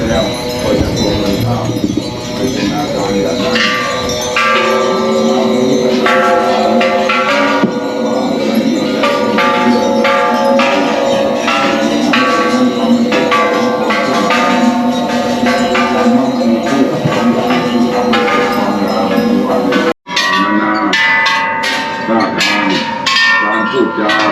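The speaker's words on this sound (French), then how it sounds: "c'est symbole de chance de faire sonner les cloches" Temple bells in Bangkok, Thailand ring again and again, their metallic tones layered over a busy crowd with people talking nearby.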